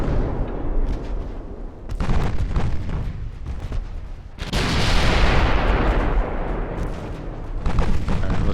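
Heavy naval guns fire in a warship battle in the video game Ultimate Admiral: Dreadnoughts, a series of loud, deep booms, each trailing off into a long rumbling roar.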